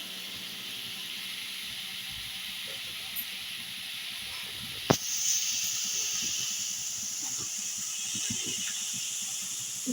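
Tomatoes sautéing with salt in a pan for a spicy crab curry, a steady low sizzle and hiss running throughout with one sharp clack midway and no talk.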